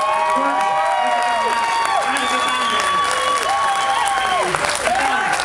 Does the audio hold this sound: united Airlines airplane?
no